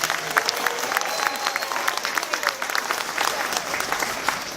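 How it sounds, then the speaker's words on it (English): Crowd of theme park pass holders applauding at a preview-day celebration, steady clapping from many hands at moderate distance, a voice faintly over it. "Give yourselves a big round of applause."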